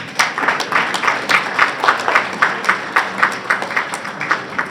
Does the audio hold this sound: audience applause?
yes